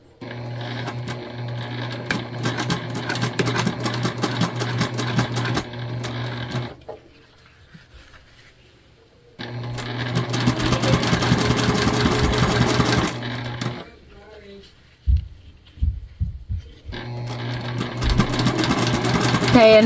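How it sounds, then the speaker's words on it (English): A sewing machine stitches a faux leather scrunchie fabric tube in three long, steady bursts of rapid rhythmic whirring, separated by short pauses with light handling noises. "You just wanna be sewing over 2 sections right now."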